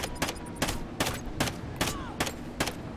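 MTAR rifle fire in a Call of Duty match, seven sharp evenly spaced shots about every 0.4 seconds, loud and close with no talk.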